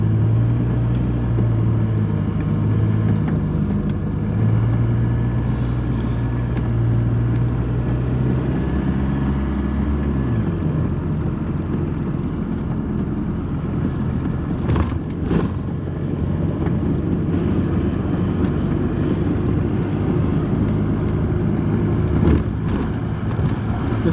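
Car driving steadily down a road, a constant low rumble of engine and tyres with a slight shift in pitch partway through and a couple of brief knocks, no voices.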